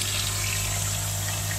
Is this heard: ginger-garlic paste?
no